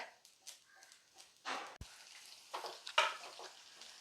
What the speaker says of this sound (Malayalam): നമ്മുടെ തേങ്ങ അങ്ങനെ മൂത്ത് വരുന്നുണ്ട് നല്ലപോലെ ഒന്ന് മൂത്തോട്ടെ